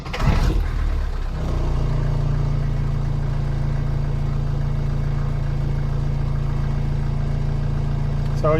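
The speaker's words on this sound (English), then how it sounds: "So you can see the engine's cold, fired right up." A cold 1977 Mercedes-Benz 240D diesel engine cranks briefly, then catches and settles into a steady, loud idle with a low rumbling drone close by.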